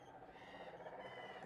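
Frogs croak steadily in an EverQuest game environment, a faint continuous chorus of throaty calls in the background with no voices over it.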